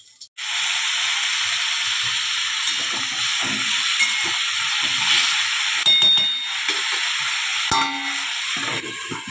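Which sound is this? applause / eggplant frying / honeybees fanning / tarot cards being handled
eggplant frying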